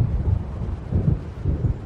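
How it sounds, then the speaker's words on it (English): Low rumbling thunder from an approaching storm in the video game Alan Wake Remastered rolls in repeated swells, loud and close, with no voices. "It seems there's a storm coming."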